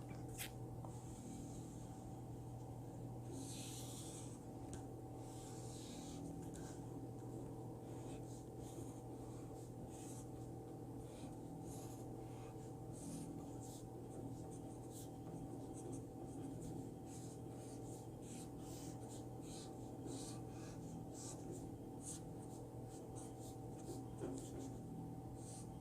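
A pen or pencil draws on paper for a pop-up book, producing faint scratchy strokes that come in uneven bursts over a quiet, steady background hum.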